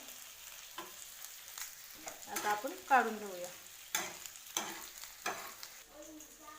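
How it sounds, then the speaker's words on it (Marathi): Grated coconut roasts in a little oil in a pan, sizzling softly with repeated stirring and scraping sounds, while a person speaks briefly. "खोबरं भाजायला पण आपण थोडंसं तेल घालून घेऊया"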